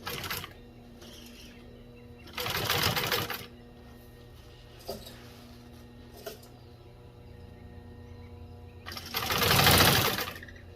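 Commercial needle-feed sewing machine with a walking presser foot binding automotive carpet, running in three short bursts with quiet pauses and light clicks between them, the final burst loudest.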